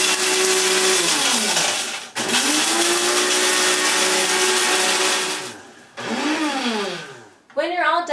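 A coffee grinder whirs loudly as it pulverizes dried celery into fine powder, running in three long bursts with pitch dropping as the motor spins down between them, then a short final pulse.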